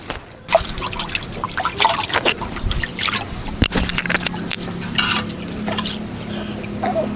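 Fresh karpooravalli and tulsi leaves are washed by hand in water, giving irregular splashes, trickles and drips with a few louder sloshes, close and continuous.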